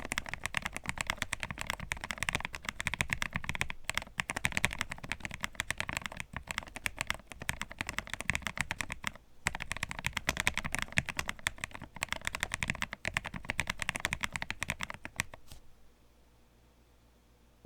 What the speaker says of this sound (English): I'm going to go do a typing test on it